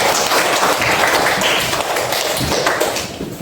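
Classroom of students applauding together at a teacher's prompt, a dense, steady patter of many hands close by, loud throughout and thinning slightly at the end, with a few voices faintly mixed in.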